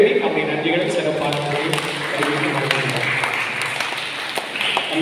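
Congregation applauding at a Sunday Mass in a church, a steady wash of clapping from many hands that holds across the whole span, with voices murmuring underneath.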